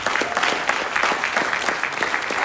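Audience applause for authors at the Polar romand crime fiction award ceremony, a steady close patter of many hands clapping with a loose rhythmic pulse.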